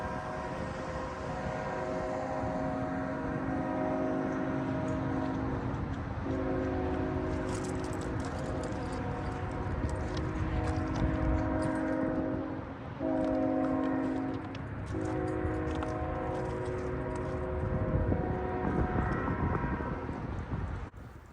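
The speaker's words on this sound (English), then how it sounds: "The low melodic groan of a K5LLA swiftly approaching can only indicate one thing here in the Greenville district." BNSF locomotive sounding a K5LLA horn while a train approaches on the Greenville district, long loud chime blasts repeating over a constant rumble of rolling rail cars.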